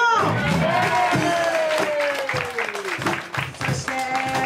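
At a live concert at Iwaki Burrows, a crowd claps and cheers while a voice talks over the applause.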